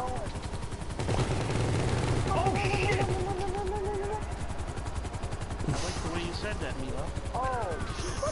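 Video game gunfire plays as dense, continuous bursts of shots mixed with other game effects, with voices talking over it throughout.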